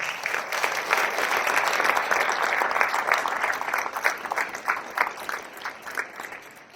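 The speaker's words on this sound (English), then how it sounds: "a round of applause, please." Sustained applause from a room of attendees thanking sponsors at a strategic plan event, dense clapping at an even level that thins slightly toward the end.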